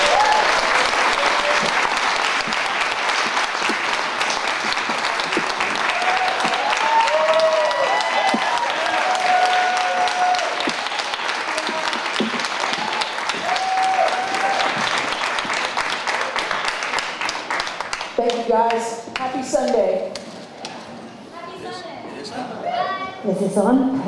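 Audience applause welcoming two guests at an interview event, loud sustained clapping from a crowd for about twenty seconds, then thinning out near the end as a few voices emerge.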